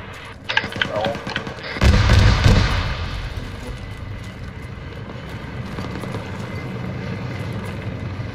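A helicopter in the Arma 3 video game, on a sandstorm combat mission: a heavy thump, then a steady low rotor rumble and chopping drone, with occasional muffled voices.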